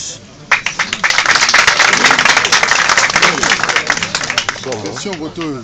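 An audience in a meeting hall bursts into sustained applause, dense clapping rising quickly and then thinning out, with a voice speaking over it near the end.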